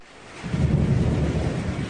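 Rumbling thunder rolls under steady rain as a thunderstorm sound effect in a Thai radio advertisement, a continuous broad wash of noise with no voices.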